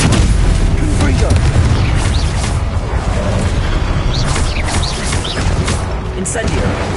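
Explosive Confringo spell blasts in Hogwarts Legacy, a dense stream of booming detonations and crackling impacts running continuously at high volume, with a voice shouting over the battle.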